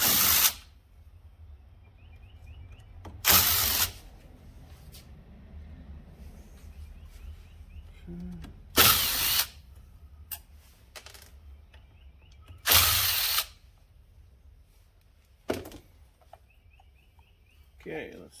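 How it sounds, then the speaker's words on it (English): Several short, loud bursts from a power drill removing a part from a 2002 Honda 400EX ATV, each lasting about half a second, separated by pauses with quiet background noise. "get the drill and we can zip it out of here"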